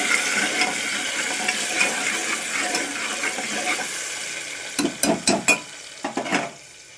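Tomatoes with cumin and green chillies sizzle quietly in a pan, then a spoon stirs them in a burst of several quick, close scraping strokes near the end.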